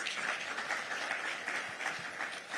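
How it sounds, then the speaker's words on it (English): Conference audience at a safety and health event applauding, a dense continuous patter of many hands clapping, fairly even throughout and heard from within the hall. "Another big round of applause."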